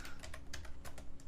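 Quick, irregular keystrokes tap on a computer keyboard, close and fairly quiet, with no voices.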